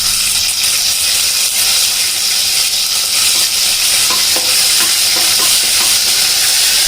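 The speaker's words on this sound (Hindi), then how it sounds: "अदरक लहसुन हरी मिर्च के पेस्ट को हमने कुछ सेकंड्स भून लिया" Ginger, garlic and green chili paste fries in hot oil in a pot, giving a loud, steady, close sizzle with occasional stirring scrapes and no talk.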